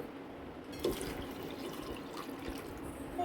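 Water is poured from a glass into washed basmati rice for coconut rice, giving soft, faint splashing and trickling close by in a quiet kitchen.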